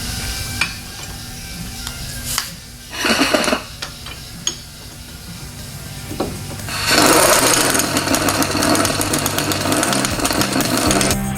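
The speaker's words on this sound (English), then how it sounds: "I'm going to use my impact on the lowest setting just to seat these wheel spacers" An impact wrench on its lowest setting seats wheel spacers on a Volvo 940 Turbo wagon, with a brief rattling burst followed later by a longer, loud, sustained hammering run close by.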